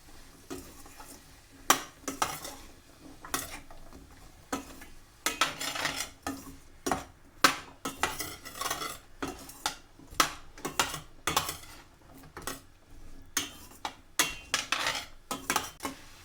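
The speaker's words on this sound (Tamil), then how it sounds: "இப்போ இந்த மரக்கறி வதங்கினதும் போதும்" Vegetables sautéing in a pan over moderate heat, with frequent metallic scrapes and clinks of a spoon against the pan over a faint sizzle, coming in irregular bursts.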